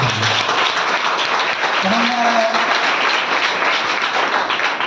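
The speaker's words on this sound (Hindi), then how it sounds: "जबरदस्त ताली होनी चाहिए।" Sustained audience applause at a training meeting, a dense steady wash of many hands clapping that fills the whole stretch, with a brief voice rising faintly underneath.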